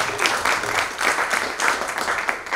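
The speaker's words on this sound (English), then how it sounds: "a round of applause for Juan Carlos Coto." Short burst of audience applause for a speaker at an animation summit conference, fairly faint and pulsing, with murmuring voices underneath.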